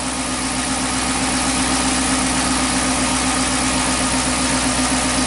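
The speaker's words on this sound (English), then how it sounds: "Just gonna let it idle, let it warm up and all that" A Chrysler 300 engine warming up at idle after misfire repairs, a steady close rumble with an even low pulsing throb and constant mechanical whir throughout, no voices.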